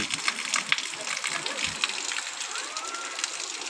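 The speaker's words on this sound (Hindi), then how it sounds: "बारिश बहुत है, पानी भी ज़्यादा हो गया है" Heavy rain falls in a village, with water flowing and gushing nearby, a steady hissing patter with scattered drop impacts, and a voice speaking faintly underneath.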